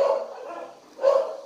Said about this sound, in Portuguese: Vou pedir desculpa pelos cachorros que estão latindo